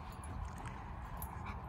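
A dog whimpers and yips softly in a park, with thin, steady whining over constant outdoor background noise and no talking.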